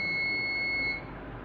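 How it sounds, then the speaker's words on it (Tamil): A bread maker's finish alarm sounds as a single clear electronic beep tone lasting about a second against quiet room noise, then stops, with no voices. "இதுமாதிரி சவுண்டு வரும், அலாரம் சவுண்டு."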